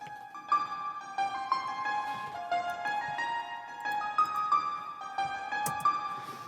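Hyper Piano preset from the Nexus synth, played dry with no insert effects, just its original delay and reverb: a bright, bell-like synthetic piano picking out a steady melodic line of evenly spaced notes, clean and moderately quiet.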